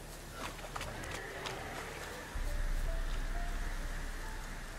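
Steady rain hiss falls in the video game The Witcher 3: Wild Hunt, a broad even wash that thickens partway through with a low rumble, with occasional faint drops and distant game sounds underneath.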